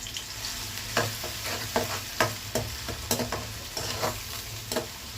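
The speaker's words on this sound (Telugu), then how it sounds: "ఆ తర్వాత టమాటా ముక్కలు వేద్దాం." Tomato pieces frying with onions in a pan for paneer kurma, a steady close sizzle broken by repeated scraping stirs at an uneven rhythm, with no talk.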